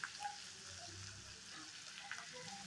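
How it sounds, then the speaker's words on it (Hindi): Cumin potatoes (jeera aloo) fry in a pan over low heat, a soft, steady sizzle with occasional small pops, close by and fairly quiet, with no voices. "अच्छे से फ्राई करना है।"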